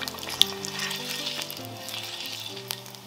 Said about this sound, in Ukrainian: У воці витоплюємо баранячий жир